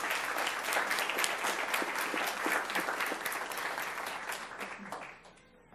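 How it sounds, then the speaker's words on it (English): A crowd claps steadily for several seconds for Palm Beach County school staff, dense and sustained, then the applause thins and fades away at the end. "Let's give them all a round of applause"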